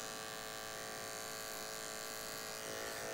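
Electric hair clipper running steadily through a low fade haircut, a close continuous buzz with a slight change near the end, no talking.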